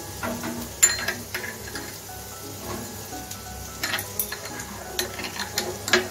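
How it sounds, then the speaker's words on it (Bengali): Salt and sugar stirred into lukewarm water in a bowl with a spoon: faint, intermittent scraping and clinking taps scattered across the stretch, quiet and close, with no talking. "আর 4 চামচের 4 ভাগের 1 ভাগ চিনি দিয়ে আমি গরম জলের সাথে ভালো করে মিশিয়ে নিচ্ছি"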